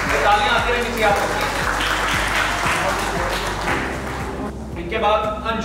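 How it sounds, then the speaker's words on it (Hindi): An award-ceremony crowd claps steadily, with music and a speaking voice over it; the applause thins briefly near the end. "तालियां आती रहनी चाहिए आपको"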